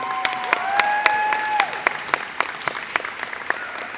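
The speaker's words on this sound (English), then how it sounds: "Can all the JV girls stand so we can give you all a round of applause?" Scattered, fairly sparse clapping at an indoor school athletic awards ceremony, individual claps distinct and uneven, with a voice briefly heard over it early on.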